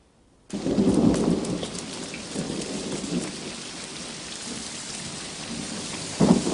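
Heavy rain sets in abruptly and pours steadily, with deep thunder rumbling near the start and a fresh loud crack of thunder just before the end.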